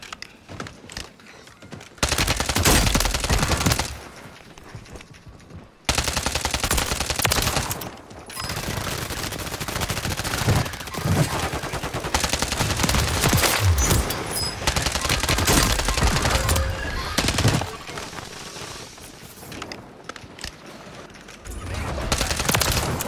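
Heavy video game gunfire, with long stretches of rapid automatic shooting broken by short pauses and a few thuds, loud and close throughout.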